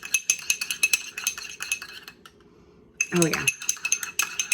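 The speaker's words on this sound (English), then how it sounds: "I'm gonna mix it all up." A utensil clinks and scrapes rhythmically against a dish while stirring a chili garlic sauce mixture, pausing briefly before resuming; a short spoken remark comes in over it.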